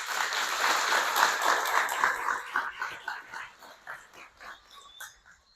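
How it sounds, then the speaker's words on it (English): Applause for educators at an adult high school graduation ceremony: a crowd claps in a dense, even patter that gradually thins into scattered claps. "I want to give you guys the opportunity to give your educators a round of applause"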